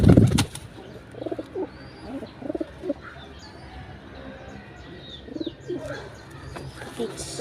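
Pigeons coo in short repeated bursts at moderate distance, with a loud thump at the start and occasional faint wing flutters, someone speaking intermittently.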